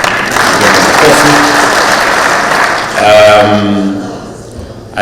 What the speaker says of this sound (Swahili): Mheshimiwa Mwalio kutoka Masinga, begin makofi.